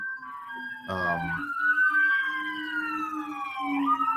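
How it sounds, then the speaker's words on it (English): A police siren wails steadily with gliding pitch, loud and close, a brief honk-like blast near the start and a low steady tone underneath. "that was not a siren of excitement."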